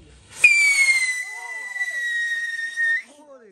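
A Diwali firework rocket gives off a loud, piercing whistle that holds nearly steady for about two and a half seconds as it climbs, with faint voices in the background.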